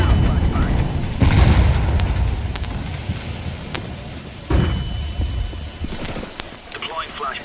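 Booming video game grenade explosions, two heavy blasts a few seconds apart, each rolling off into a rumbling tail, with a voice talking alongside the game sounds.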